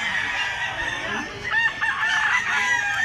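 A gamecock bullstag crows in a rural yard, its loud, close call rising and falling for about three seconds over a steady background of other fowl noise.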